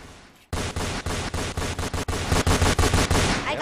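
Rapid automatic gunfire in the Roblox game Fortnite Simulator, a loud sustained burst of closely spaced shots starting abruptly and running to the end, with no talking.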